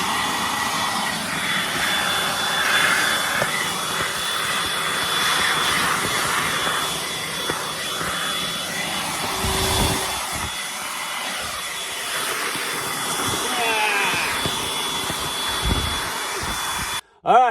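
A suction vacuum roars steadily while sucking up gravel and material at a desert gold prospecting site, a loud continuous whine with occasional gulps and rattles as debris passes through, ending abruptly.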